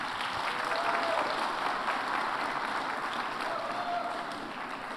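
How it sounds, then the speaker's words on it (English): A crowd at a civics bee event at the Nixon Library gives sustained applause, an even, continuous roar of clapping that fades slightly toward the end. "Let's give them a round of applause."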